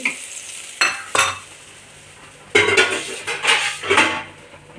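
Sharp metallic clinks of a utensil against a pot, then sputtering and crackling of spices tempering in hot oil for a dried fish curry, close up with no talking.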